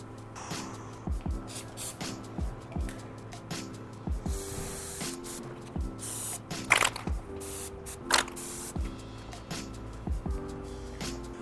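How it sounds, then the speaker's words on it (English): Trim adhesive sprayed from an aerosol can onto a car armrest cover for an Alcantara interior job, a run of short hissing bursts close by with brief pauses between them and no talking. "we're going to take this out and get it sprayed down with some trim adhesive"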